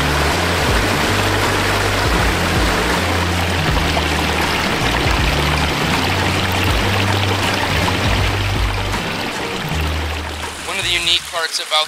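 A backyard pond stream, rebuilt and dug deeper, rushes and splashes in a loud, steady, close wash of flowing water that fills the whole stretch.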